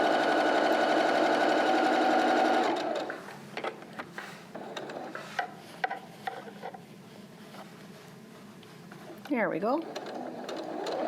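A sewing machine runs in a loud, steady whir for a few seconds while stitching a face mask's center seam, then stops, followed by quieter handling clatter and a brief spoken remark.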